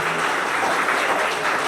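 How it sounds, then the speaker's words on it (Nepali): Steady crowd applause fills a Nepali Christian wedding ceremony, a dense continuous patter of many hands clapping close by with no talk over it. "ताली बजाइदिनुहोस्।"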